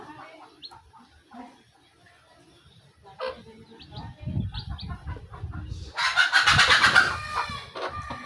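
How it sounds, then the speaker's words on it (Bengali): Frightened backyard hens cluck in short, uneven bursts that build into a loud, agitated squawking flurry near the end, with some rustling close by. "ভয় পেয়েছে আরো মুরগিগুলো।"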